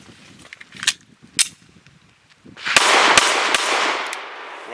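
A Remington R51 pistol firing 115 grain steel case ammo gives a few sharp cracks, followed by a loud stretch of noisy blast with further reports mixed in, close and harsh.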